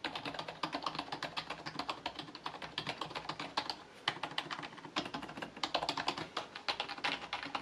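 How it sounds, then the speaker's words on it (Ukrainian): Steady, fast typing on a HATOR Icefall membrane gaming keyboard with soft, muted keystrokes, close and continuous with no pauses or voices. "Клавіатура оснащена перемикачами, які забезпечують тихе та плавне натискання."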